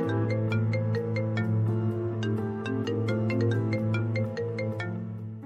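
A phone ringtone plays a bright, repeating electronic melody over a sustained tonal backing, steady and clear for several seconds with no talking over it.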